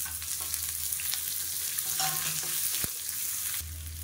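Onions frying in oil with mustard seeds, cumin and curry leaves, an even close crackle and sizzle with a low hum and a couple of brief stirring scrapes, no speech.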